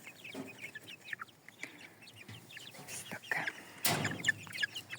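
One-month-old chicks of Lohmann, Hisex and Dominant breeds cheep and cluck in a busy indoor flock, many close overlapping peeps with a louder burst of activity near the end; no talking.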